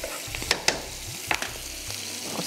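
Chilli chicken cooks in a pan with a cup of chicken stock added, giving a steady bubbling sizzle broken by several sharp scrapes and clanks of a utensil stirring against the pan.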